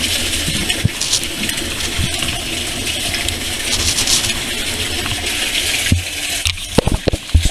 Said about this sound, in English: you can see the water going into my sump there